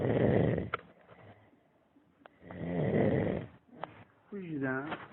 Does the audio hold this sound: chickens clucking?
no